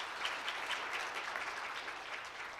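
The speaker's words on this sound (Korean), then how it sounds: "발표해 주신 민 박사님께 큰 박수 부탁드리겠습니다" Applause from a symposium audience after a speaker's presentation at an intellectual property policy forum, a steady, even wash of many hands clapping that holds at a moderate level throughout.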